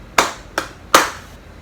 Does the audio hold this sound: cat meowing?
no